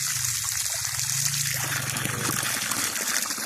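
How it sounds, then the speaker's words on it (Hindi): Water trickling and gushing steadily from a free-flowing hand pump in a Pakistani village, a continuous close splashing stream with no talk. "ये आप देख सकते हैं पानी निकल रहा है।"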